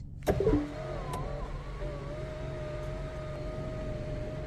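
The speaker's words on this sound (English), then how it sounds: "I will open the sunroof." The sunroof of a 2023 BMW X1 opens with a short mechanical click, followed by a steady motor whine and hum inside the quiet cabin for several seconds.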